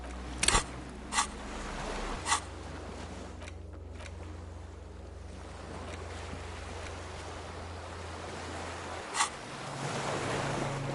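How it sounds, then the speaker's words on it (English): A small skiff rocks on gentle waves in the game Disco Elysium, with a steady soft wash of water and wind and a few faint creaks or clicks. "The skiff is swaying on the waves."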